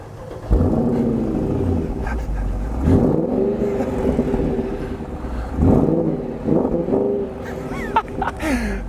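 A Mercedes R63 AMG minivan's exhaust revs up and down in several swelling, throaty surges over a low engine rumble, heard nearby.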